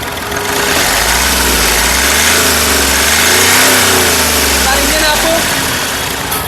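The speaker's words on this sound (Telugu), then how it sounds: "ఇంజిన్ యొక్క నాయిస్ చాలా సైలెంట్గా అయితే ఉంది" A 2017/18 Hyundai Grand i10 Sportz car engine runs steadily and rises and falls in pitch as it is revved, loud and close throughout.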